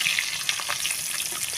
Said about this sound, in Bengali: মাছ ভাজা আমার হয়ে গিয়েছে